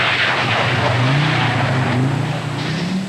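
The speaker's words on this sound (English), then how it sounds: "Llewellyn in the big Audi, keen to start the excitement as quickly as possible." A big Audi rally car from the 1988 Cartel Rally runs an opening stage, its engine roaring loud and close with rising and falling revs as it drives through, joined by a hint of tyre noise and no voices.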